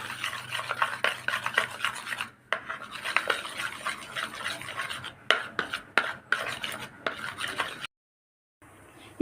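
Eggs being whisked with chili powder, pepper powder and salt, a steady scraping and clinking stir in a bowl that runs continuously, pausing briefly a few times before a short silent gap near the end.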